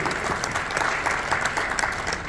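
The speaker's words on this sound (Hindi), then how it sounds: "तो मैं चाहूंगा एक बार कुणाल सर के लिए हम सब लोगों की तरफ से जोरदार तालियां होनी चाहिए।" An audience at a company success-story event in India gives a warm round of applause, steady and fairly loud, a continuous wash of many hands clapping throughout.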